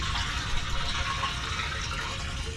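Fuel runs through a siphon and a small piece of fabric filter into a container aboard a sailing boat, a steady close trickling and gurgling flow that continues throughout.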